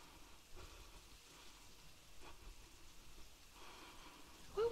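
Steady rain falling at night in the video game Finding Bigfoot, a constant soft hiss of drops with faint low rumble, quiet and continuous, ending with a brief sharper tone.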